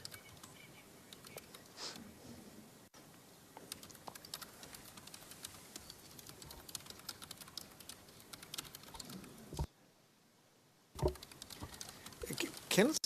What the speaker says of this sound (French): est-ce qu'il y a quelqu'un qui est en train de taper sur un clavier avec un micro ouvert?